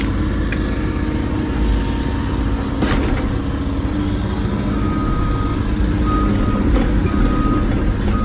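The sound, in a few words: truck reversing with backup beeps near an excavator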